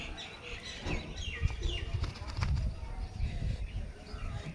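A pair of Punjabi Malbai pigeons kept as hobby birds, with soft, continuous low cooing and rustling close by, overlaid by scattered higher chirps from other birds and some background noise throughout.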